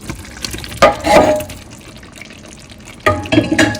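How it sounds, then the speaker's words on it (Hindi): Water drained off boiled potatoes for a home-cooked biryani, two short splashy pours close by, separated by a quieter gap, with no talking. "ये उबले हुए, इसमें से पानी ड्रेन करके आलू में शामिल कर दूँगी"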